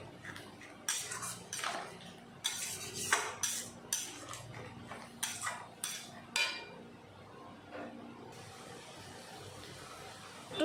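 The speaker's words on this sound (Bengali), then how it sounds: "এখন সব কিছু মিশিয়ে ভালো মতন কষিয়ে নিতে হবে।" A spoon or spatula scrapes and clinks against a pan while ground spice paste for a jackfruit and prawn curry is mixed and sautéed, irregular quiet metallic strikes over a faint sizzle, with no talk.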